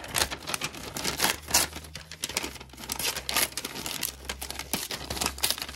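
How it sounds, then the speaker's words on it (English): Magazine paper being torn into scraps for a vision board, a run of close, loud ripping and crinkling bursts with short pauses between them, and no voices. "gotta love the sound of tearing paper"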